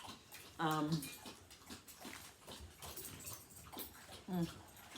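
Dogs just let back inside a house, one giving a short whimpering whine near the start and another near the end, with faint lapping of water and pattering movement throughout and someone talking quietly.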